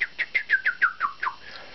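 Little brown bat echolocation calls converted by a handheld bat detector into a rapid series of about eight short, descending chirps, evenly spaced and clear, fading slightly toward the end.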